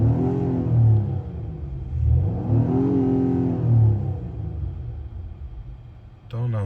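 A 2019 Acura TLX A-Spec AWD with a K&N air filter revs in sport mode, three rising and falling engine swells close by, then the engine settles toward idle as the clip ends.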